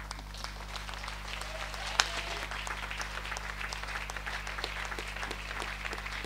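A church congregation on its feet during a Sunday testimony service applauds in a dense, steady roar of many hands, filling the room for the whole stretch, with one sharp louder clap early on.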